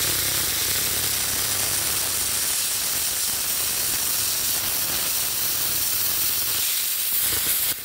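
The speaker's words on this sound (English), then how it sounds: "for my final test, let's cut in this old metal. The thickness is 5 millimeters." A Parkside PPS 40 B3 plasma cutter slices through 5 mm thick old metal with a loud, steady, broadband hiss and crackle, continuous throughout and heard close up with no talk.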